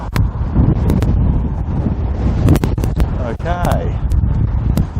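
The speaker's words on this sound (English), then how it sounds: "As you can tell, it's quite windy up here." Strong wind buffets the microphone on an elevated walkway in the City of London, a steady roaring rumble with sharp gusty pops throughout and a brief tonal whine in the middle.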